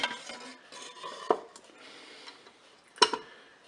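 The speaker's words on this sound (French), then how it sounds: "Je vais déposer dans la cuve du Cookéo ma poêle" A frying pan is set down into the metal bowl of a Cookeo multicooker with two sharp, close clanks about two seconds apart, surrounded by soft handling clatter and no talking.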